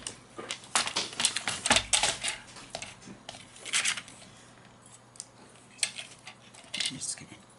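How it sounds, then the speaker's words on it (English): A card being trimmed, with close, scattered snips and crisp paper cuts in irregular bursts under quiet, soft talking. "what we're going to do is we're going to trim him up a little bit"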